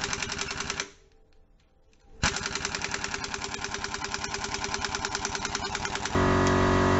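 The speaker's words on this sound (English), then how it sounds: "I think I might just grab my rattle gun." An impact wrench hammering on a crank pulley bolt: a loud, close, rapid rattling buzz that pauses briefly, resumes, and ends in a harsher, stronger burst, with no speech.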